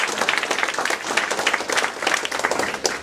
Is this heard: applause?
yes